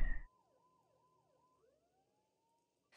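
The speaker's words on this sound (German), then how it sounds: "Mona muss die Sirenen auch gehört haben" A police siren in the Max Payne 2 game wails faintly in the distance, rising and falling in a few smooth sweeps before settling into a long, steady tone after a brief loud noise at the start.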